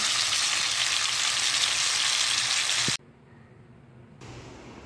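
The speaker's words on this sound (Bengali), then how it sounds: "এরকম করে উলট পালট করে কিন্তু ভালো করে এগুলোকে ফ্রাই করে নিতে হবে" Pomfret fish fries in a pan with a loud, dense hiss that cuts off abruptly around three seconds, then returns softer after a short lull, with a faint clunk as the fish is turned; no voices.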